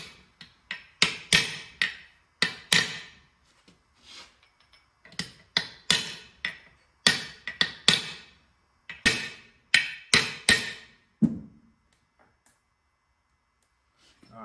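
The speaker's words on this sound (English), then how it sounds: "So I can kind of tap it from the outside all the rest of the way." A metal punch is tapped against a part to seat it during assembly of an NP205 transfer case from a 1972 GMC Jimmy. Sharp, close hammer-like taps come in quick bursts with short pauses, ending in silence.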